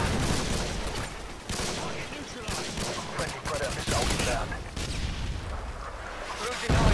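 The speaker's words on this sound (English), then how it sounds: "Just throw some stun grenades up here." Dense, continuous stun grenade blasts and heavy gunfire from a Modern Warfare 2 match, a loud, unbroken wash of explosions and shots throughout.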